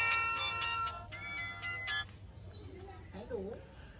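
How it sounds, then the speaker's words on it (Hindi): A bright electronic ringtone melody chimes in short repeating bursts, then fades as faint background sounds continue. "फोन किसका आ गया?"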